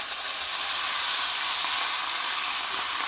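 Water poured into a hot pan of cooking rabbit saddle pieces gives a loud, steady, broadband sizzle and hiss that carries on without a break.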